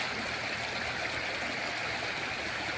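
Strongly flowing water of the Narmada river rushes steadily and loudly, a dense continuous broadband roar with no pauses and no voices.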